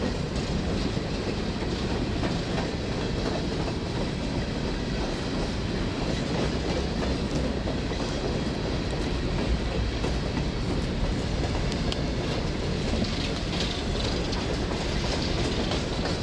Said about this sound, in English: resulting in 9 trains traversing the switchback in a 24-hour period